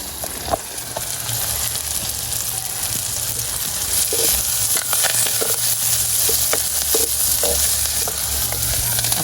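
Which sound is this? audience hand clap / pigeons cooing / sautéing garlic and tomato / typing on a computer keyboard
sautéing garlic and tomato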